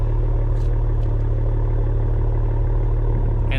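A 2024 Ford Mustang GT fitted with Borla Extreme exhaust from the downpipe back idles with a deep, steady rumble, heard loud and close from the rear of the car.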